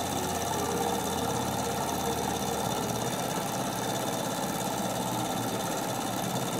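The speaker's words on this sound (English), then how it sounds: "I think this is the HA001 alcohol engine." Small HA001 alcohol-fuelled model engine running steadily, a continuous close buzzing, rattling drone that holds an even level throughout with no voices.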